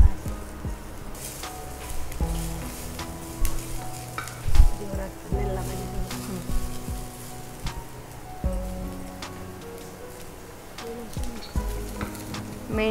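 Onion sizzles and crackles steadily as it fries in a pan, with stirring scrapes and clatter throughout, close and moderately loud with no speech.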